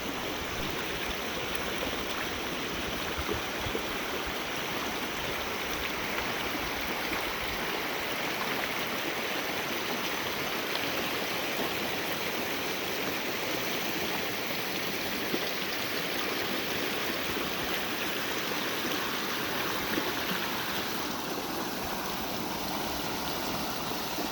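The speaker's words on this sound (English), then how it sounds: "We're on this awesome spot right by the river. There's the river." A river rushes past a riverside campsite, a steady, dense broadband roar of flowing water close by, continuous and unbroken throughout with no voices.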